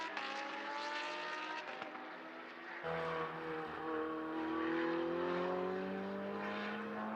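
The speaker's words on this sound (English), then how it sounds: "It's the V8 in the Ferrari versus the flat 6 in the Porsche." Ferrari V8 and Porsche flat-six GT race cars racing at Mugello, loud engines screaming and rising through the gears, one note cutting off and another sustained, climbing engine note taking over near and continuous.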